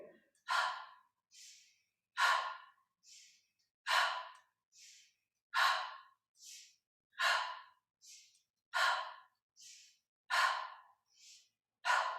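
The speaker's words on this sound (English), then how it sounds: "So as I turn one way, I'll inhale passively through the nose and then turn the other way and exhale" Slow, steady yoga breathing repeats about every 1.6 s, each cycle a soft inhale through the nose followed by a longer, airy exhale through the mouth, close and alone with no talking.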